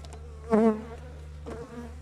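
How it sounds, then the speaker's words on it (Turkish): Honeybees buzz around a weak beehive in winter, with a steady low hum and one loud bee passing close by, then another fainter fly-past, with no talk. "Şimdi bu zayıf bir arımız."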